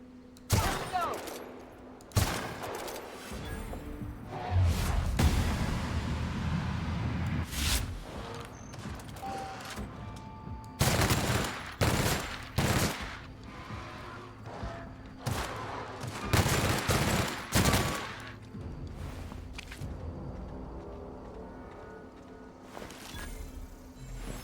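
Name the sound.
heavy machine gun fire in the video game The Outer Worlds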